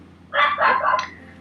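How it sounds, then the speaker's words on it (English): A dog in an old NES game gives a short burst of two or three barks, electronic and fairly loud, heard alone over a quiet background. "I hear dogs."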